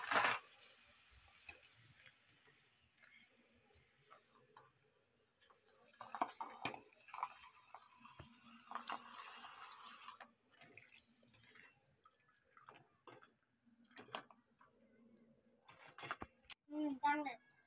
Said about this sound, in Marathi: अजून एक पापड मी टाकून तुम्हाला दाखवते तळून